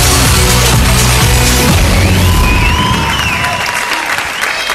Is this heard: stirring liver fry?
no